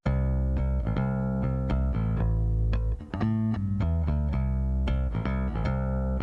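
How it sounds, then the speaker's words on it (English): PV bass guitar played clean through a balanced direct-box output straight into a converter, a run of deep plucked notes with a steady rhythm, close and dry with no talk. "here's what that bass guitar sounds like, just with the balanced out right into my converter"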